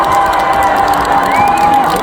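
A festival concert crowd cheers and shouts loudly at an outdoor cultural festival, a dense, sustained roar of voices with high whoops rising above it and only light clapping underneath.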